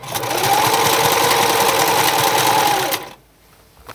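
Close, loud sewing machine running steadily while zigzag stitching fabric for a Lolita skirt, a fast even mechanical chatter for about three seconds before it stops abruptly.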